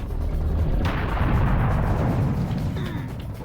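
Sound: gunfire shooting at the player in the video game Serious Sam

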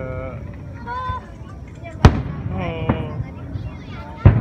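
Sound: fireworks exploding

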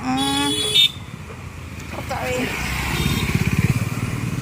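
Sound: vehicle passing on main road with horn

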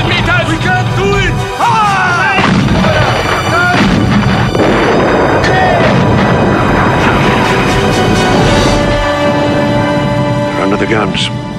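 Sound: artillery guns firing in battle

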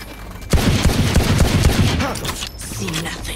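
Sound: gunfire from a gun in the Valorant video game

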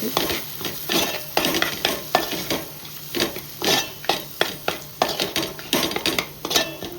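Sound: sautéing spices in a pot for chicken biryani

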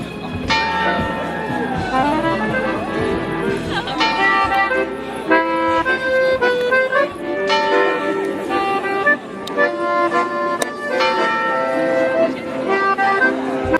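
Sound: bell ringing at a wedding in Frankfurt

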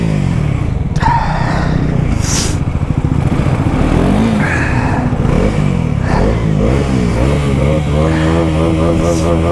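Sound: Bajaj NS400z and KTM RC390 motorcycles revving in drag race

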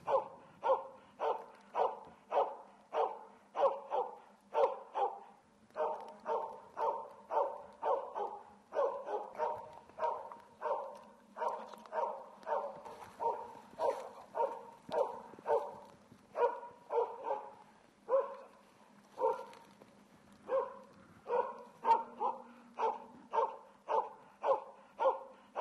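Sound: elk hunting dog barking at cow, calf and bull elk

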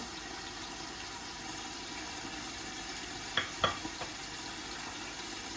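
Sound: meat sautéing in pan with onions

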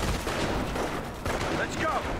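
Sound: gunfire in the video game Company of Heroes

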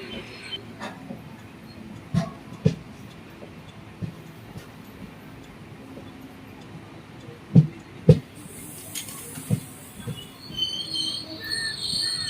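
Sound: train arriving at Kayamkulam railway station

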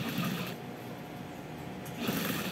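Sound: sewing machine stitching a petal kitchen rug

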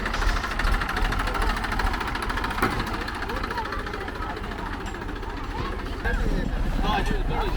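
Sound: tractor engine idling

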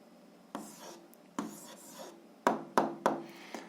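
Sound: writing down the answer by hand

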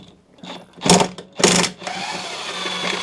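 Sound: half-inch impact gun removing mower blade bolt

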